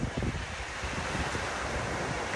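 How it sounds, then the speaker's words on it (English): Wind blowing outdoors at a vacation spot, a steady broadband rush with low gusty buffeting on the microphone, loud and constant throughout with no talk. "I'm so glad it's windy here."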